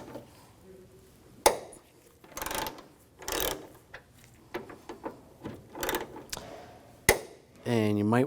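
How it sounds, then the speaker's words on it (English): Ratchet with a 13mm socket loosening the hood hinge nuts on a 2011-2018 Volkswagen Jetta, close and loud, in bursts of rapid clicking separated by short pauses and clunks. "Using a 13mm socket, we're going to take these nuts off."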